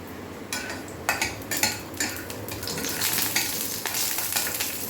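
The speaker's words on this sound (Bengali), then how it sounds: "ঘি দিলাম গোটা দারচিনি আর এলাচ দিয়ে দিলাম ওটা একটু নাড়াচাড়া করে নিই" Whole cinnamon and cardamom stirred in hot ghee give a soft, constant sizzle broken by several sharp scrapes and clinks of a utensil against the pan, close and without talk.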